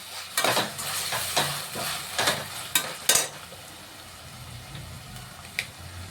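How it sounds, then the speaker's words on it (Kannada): Chopped tomato hits a pan of cooked ginger-garlic paste for a mushroom biryani, sizzling with several sharp bursts and scraping stirs early on, then settling into a softer, steady frying hiss. "ಒಂದು ಟೊಮೊಟೊನ ಕಟ್ ಮಾಡ್ಕೊಂಡಿದ್ದೆ, ಹಾಕೊಂಬಿಡೋಣ. ಅದನ್ನು ಸ್ವಲ್ಪ ಫ್ರೈ ಮಾಡ್ಕೊಳ್ಳೋಣ."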